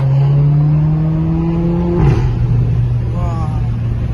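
A Mercedes-AMG CLA45 accelerating hard in an informal street race, its engine note climbing steadily up close, then dropping sharply at a gear change before pulling again.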